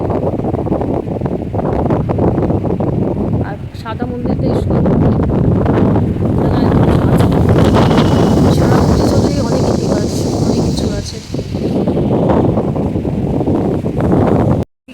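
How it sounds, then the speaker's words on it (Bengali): Strong wind buffets the microphone in a steady roar throughout on the Ganges riverbank, with people talking over it outdoors. "গঙ্গার ধারে আমরা হাওয়া পাচ্ছি আর দারুণ হাওয়া পাচ্ছি"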